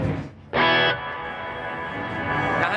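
Wampler Reflection reverb pedal in plate mode with decay at maximum, a loud bright swell that hangs on as a long, sustained wash of tone, trailing for seconds without fading away.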